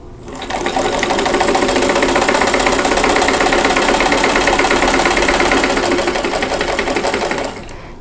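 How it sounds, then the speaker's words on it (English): A sewing machine stitches a quilt block along a drawn line, running in a steady, fast, continuous whir close by for about seven seconds before stopping, with no talking. "I'm just going to stitch on the drawn line, going from center top to the bottom right hand corner"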